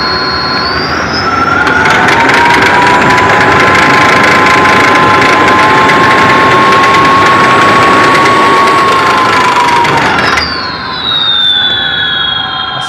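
An electric motor driven by its controller whines steadily and loud, its tone rising as it accelerates and then holding a sustained high pitch before cutting back near the end; no one speaks.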